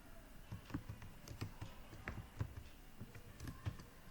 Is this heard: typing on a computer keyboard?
yes